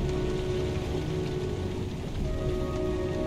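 Steady, dense rainfall fills the scene in the video game Heavy Rain, a constant wash of drops at an even level with faint tonal ambience underneath and no talk.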